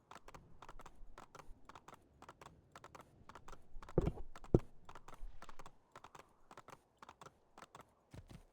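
Steady clip-clop of horse hooves in the video game Assassin's Creed II, quick and rhythmic at a trotting pace, crisp and evenly spaced throughout.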